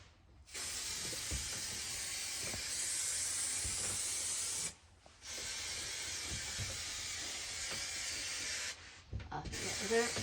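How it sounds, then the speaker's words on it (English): Spray foam insulation hisses out of a can inside a van in three long, steady bursts, loud and close, separated by short pauses. "So give that a good spray all over where it's going to be."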